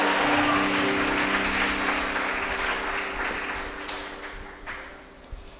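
A church congregation applauds loudly, with a thick burst of clapping at the start over a steady tone that gradually fades, and a few scattered claps near the end.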